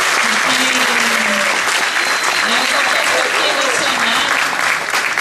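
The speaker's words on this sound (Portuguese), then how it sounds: "mas uma salva de palmas." An audience at a talk on citizenship in Brazil breaks into sustained, dense applause throughout, with a voice speaking over the clapping.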